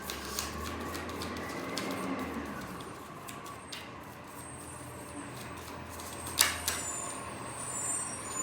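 A truck rumbles in with a low, steady engine drone and a brief sharp hiss of air brakes near the end, heard at moderate distance with no talking.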